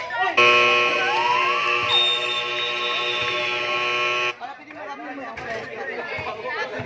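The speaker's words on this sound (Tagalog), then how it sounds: "Buzzer na lang." A loud, sustained electronic buzzer ends a basketball championship game, holding steady for about four seconds before cutting off into crowd chatter and voices.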